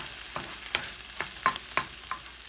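Half a cup of minced onions browning in a pan, with a spoon giving soft rhythmic scrapes about every third of a second over a faint sizzle, close and quiet, no talking.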